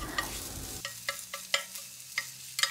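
Tamagoyaki egg mixture cooks in a pan with a soft sizzle, while a handful of light utensil taps and scrapes come as the egg is rolled.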